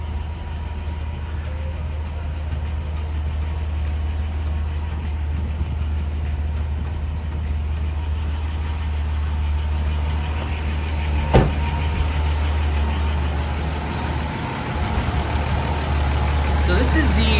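A 4.0-liter straight-six engine in a Toyota Land Cruiser 80 Series with 226,000 miles runs at a steady low idle, an even rumble heard close throughout, with a sharp click partway and someone talking over it.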